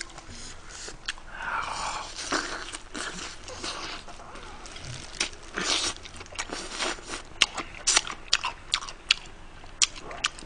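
Close crunchy bites into BHC Bburinkle fried chicken, with wet chewing between and a run of sharp, loud crunches growing more frequent toward the end.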